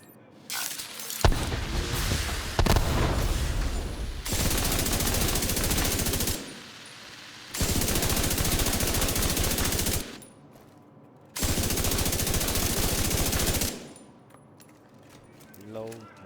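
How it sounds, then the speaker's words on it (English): An MG5 light machine gun fires in The Division 2 in three long sustained bursts of rapid automatic gunfire, loud and close, with brief quieter pauses between them and a faint voice in the background. "777 exotic holster LMG build, MG5 build."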